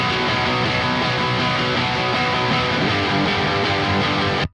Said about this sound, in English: we go from this tone, which is how it sounds off the bat without touching any of the amp